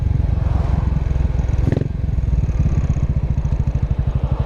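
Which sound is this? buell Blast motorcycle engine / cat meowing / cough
buell Blast motorcycle engine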